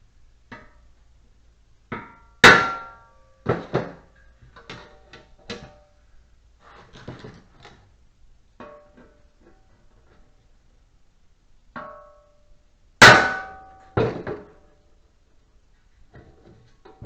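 A ball peen hammer strikes metal during repair work on a 1954 Fargo truck, giving sharp, separate blows at an uneven pace, with loud pairs of hits among quieter taps in a quiet room.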